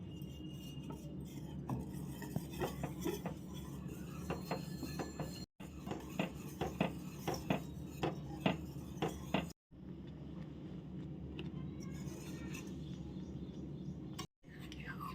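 A spoon scrapes and taps against a pan while a thick milk powder sweet with ghee is stirred over low flame, giving quiet, irregular clinks close by under soft background sound.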